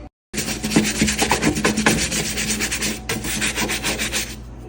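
A brush scrubbing stains off glass, rapid rhythmic rasping strokes running almost continuously after a brief silent start, close and fairly loud, with a short pause near the three-second mark.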